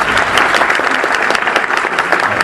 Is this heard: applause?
yes